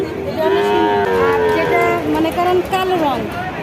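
Cattle mooing at a busy cattle market, several long drawn-out lowing calls close by over a constant murmur of crowd noise.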